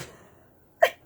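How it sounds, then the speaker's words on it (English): A single sharp sneeze bursts out near the mic after a quiet breath, brief and loud against a near-silent room. "I'm going to sneeze, you guys."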